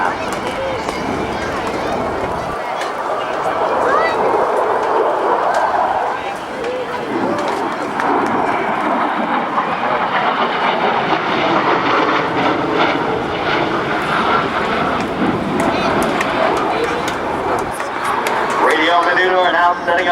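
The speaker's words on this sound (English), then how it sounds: "he will roll the aircraft inverted and reduce power to idle for the U.S. Navy F-A-18F Super Hornet inverted whisper pass" At an airshow at NAS Oceana, a U.S. Navy F/A-18F Super Hornet flies an inverted pass at idle power, a broad, hollow jet whoosh swelling and lingering as it passes, with an announcer's voice and a crowd in the background.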